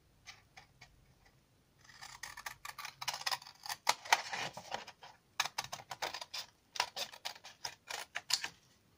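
Scissors snip through paper card while a pop-up cube box is cut out, a run of sharp, close, crisp cuts in quick irregular bursts, quieter at first and then denser, with no talking.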